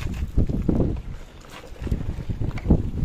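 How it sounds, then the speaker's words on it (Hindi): Strong wind buffeting the microphone outdoors, producing loud, gusty low rumbles that swell and fade in uneven surges across the whole stretch. "पता नहीं मेरी आवाज आ भी रही है या हवा की आवाज आ रही है।"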